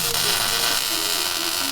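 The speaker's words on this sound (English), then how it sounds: "We'll weld another stud on for the ground" A ground stud being welded onto the roll cage of a demolition derby car, a steady close crackling buzz of the welder that runs unbroken throughout.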